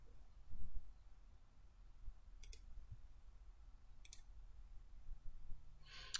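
Three faint, sharp left-button mouse clicks spaced a couple of seconds apart, made while working in CAD software over a quiet room hum.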